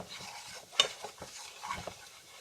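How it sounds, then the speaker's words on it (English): Flour being stirred into oil in a frying pan for country-fried steak gravy, soft scraping strokes with a faint sizzle and a sharp utensil clink against the pan, close and quiet. "And then just stir that flour"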